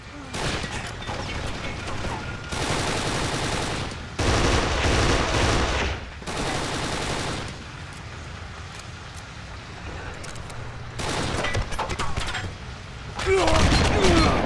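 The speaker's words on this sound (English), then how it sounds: "Oh, it's a shotgun." Shotgun blasts and bursts of gunfire ring out in the Kane & Lynch 2 video game, loud and repeated in clustered bursts over a busy combat soundscape.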